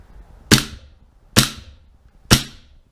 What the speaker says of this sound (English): I do have CO2 in this cartridge, so I'll show you the blowback.